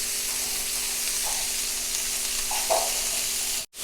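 Homemade meatballs fry in a pan with a steady, close sizzle and faint crackling pops, continuous throughout before cutting off abruptly at the end.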